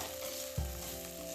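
Mint and coriander leaves hit hot oil for mutton sambar, giving a short close sizzle with a soft stirring scrape midway, quiet and alone.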